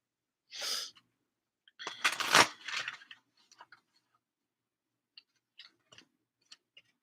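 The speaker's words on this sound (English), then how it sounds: "That sneeze messed me up." A single sharp sneeze bursts out close by, followed by a few faint ticks and small mouth sounds in an otherwise quiet room.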